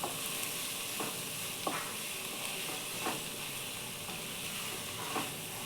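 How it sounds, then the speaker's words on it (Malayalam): Sliced onion and tomato sautéing in a pan for Kerala-style chicken curry, a soft continuous sizzle with a handful of spaced spoon scrapes as it is stirred, no voices. "സവാള, തക്കാളി ഇട്ട് നല്ലതായിട്ടൊന്ന് ഇളക്കിയെടുക്കാം."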